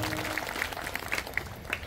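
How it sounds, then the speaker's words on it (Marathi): An audience at a Marathi kirtan applauds the Maharaj with a busy, moderately loud patter of clapping hands that keeps going throughout. "महाराजांसाठी एका जोरदार टाळ्या."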